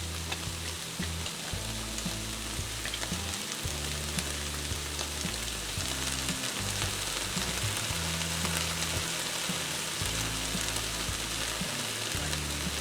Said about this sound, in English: I'm going to let it sit here and simmer for just a few minutes